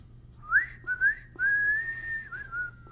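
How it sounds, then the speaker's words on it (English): Clear, tuneful whistling close by, a few short rising notes followed by a long sustained tone that wavers slightly before trailing off, with no talking. "Or maybe that's him whistling."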